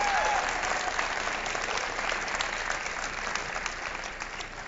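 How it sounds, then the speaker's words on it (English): Sustained audience applause for the candidates at a Wisconsin U.S. Senate debate, a steady dense wash of many hands clapping in a hall that holds evenly throughout. "Please, a round of applause for our candidates tonight."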